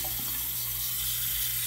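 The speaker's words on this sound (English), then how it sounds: "you're just going to fill with cold water, just regular tap water" Cold tap water runs steadily into a foaming hand soap dispenser, a constant close hiss and rush with a low hum beneath it and no talk.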